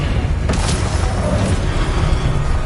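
An Expelliarmus spell fires in Hogwarts Legacy on PS5, a loud, sustained magical blast with a booming, rumbling body that holds steady throughout, with a brighter flare partway through.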